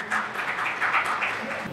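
Audience applause for a speaker at an Easter reunion party in Lahore, a brief burst of scattered clapping from a modest crowd, fairly close and fading slightly toward the end.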